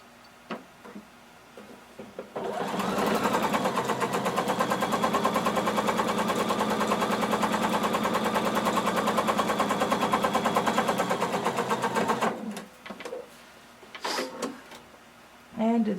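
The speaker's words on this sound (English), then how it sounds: "So you're just using a very long stitch. You're just going to sew across the bottom." Sewing machine running a long basting stitch across the bottom of jumpsuit fashion fabric and lining, a rapid even mechanical chatter that starts abruptly, holds steady for about ten seconds, then stops, followed by a few handling clicks.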